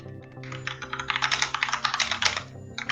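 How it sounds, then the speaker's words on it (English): Rapid, uneven clicking of keys on a computer keyboard picked up by an open microphone during an online game session, a dense clatter of keystrokes close to the mic with no talk. "Somebody stop typing hot micing."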